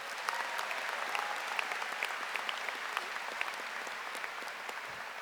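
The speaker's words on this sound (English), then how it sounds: "Let's give them both another round of applause." Audience applause for graduates at a high school graduation ceremony, a steady, dense wash of many hands clapping throughout with a few sharper individual claps standing out.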